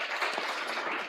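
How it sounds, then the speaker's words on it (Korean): A church congregation applauds at a thanksgiving service for a completed remodelling, a brief burst of many hands clapping, moderately loud and continuous, with no speech over it. "우리 하나님께 영광의 박수를 올려드리겠습니다."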